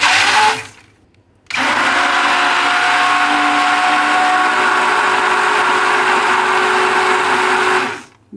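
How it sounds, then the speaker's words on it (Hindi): A handheld electric beater whirs loud and steady for about six seconds as it whips yogurt and sugar into Punjabi sweet lassi, starting after a brief pause and then cutting off. "बस इतना सा बीट करना है और बीटर को ऑफ कर देना है।"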